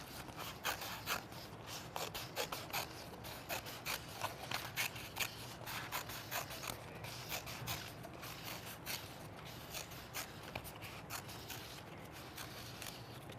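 Scissors snip steadily through paper while cutting out a spinner shape, giving a long run of quick, crisp, close-up cuts and rustles at an even rhythm with no voices.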